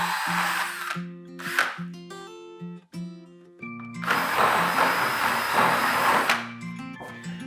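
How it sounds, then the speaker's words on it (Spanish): A power drill bores into the center of a wooden pole for a garden microtunnel frame, in several loud bursts of whining motor with a long sustained run through the middle, separated by brief pauses and pitch changes as the trigger eases. "En este caso nosotros colocamos la broca en el centro del palo."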